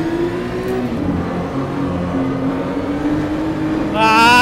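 A BMW M2 CS engine in a racing simulator game drones loudly and steadily under acceleration, then rises into a higher revving whine near the end.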